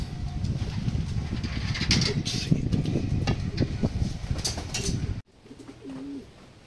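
A large racing pigeon called Dagul coos at a loft on a windy day, a few soft low calls heard close after a stretch of gusty wind noise and faint background rumble.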